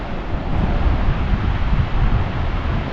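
Rushing water from rapids or a waterfall in a crevasse near Diskit Monastery, a steady, loud broadband roar with wind buffeting the microphone and no voices.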